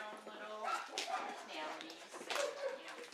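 Dogs at an animal rescue whimper and whine in short high yelps, close by, with a person talking over them.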